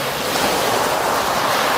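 Small waves wash steadily onto the muddy Thames foreshore as a continuous close surf hiss, with light wind noise and no voices.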